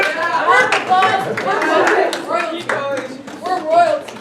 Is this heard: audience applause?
yes